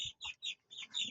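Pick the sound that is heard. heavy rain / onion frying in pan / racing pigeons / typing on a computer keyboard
racing pigeons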